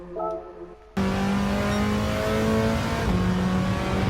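A car engine in Gran Turismo 7 roars to life after a brief quieter lead-in, then holds a loud, steady high-revving drone as the car accelerates around a race track.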